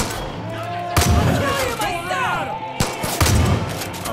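Gunfire in the video game Far Cry 5 during a prison takeover, with two loud, sharp gunshot bursts about two seconds apart over a busy game soundscape and someone talking.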